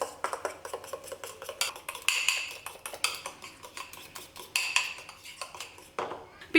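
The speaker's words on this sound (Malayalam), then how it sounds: "ഈ മുട്ടയും പഞ്ചസാരയും കൂടി നന്നായിട്ട് തന്നെ ഒന്ന് മിക്സ് ചെയ്ത് കൊടുക്കാം" Egg and sugar mixed in a bowl for a Kerala-style vettu cake: a steady run of quick light clinks and taps as a utensil beats against the bowl, close and fairly soft, with no one talking.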